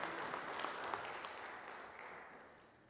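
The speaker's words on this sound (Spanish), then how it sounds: "Démosle un aplauso a nuestro Dios." A church congregation applauding during a Lenten talk, a dense wash of clapping that fades away gradually over a few seconds, moderately distant and without speech.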